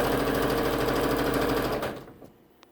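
A sewing machine runs fast and loud for nearly two seconds, quilting a decorative stitch onto a quilt, then stops abruptly, leaving faint small clicks and handling sounds.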